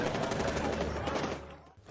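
Rapid bursts of film gunfire crackle in a dense volley, then cut off abruptly near the end.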